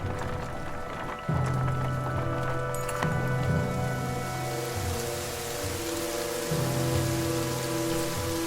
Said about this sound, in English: The darkening sky lets loose its rain, and soon fat drops of water turn into